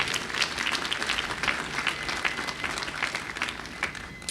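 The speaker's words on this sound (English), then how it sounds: "Let's give them a round of applause." Audience applause at a dedication ceremony at Manhattan College fills the room, steady, dense clapping from a large crowd that holds at an even level throughout.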